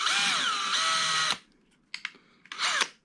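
A power drill with a bit bores into a die-cast Hot Wheels Land Cruiser FJ80, a loud whining spin for over a second, then short stop-start bursts close by.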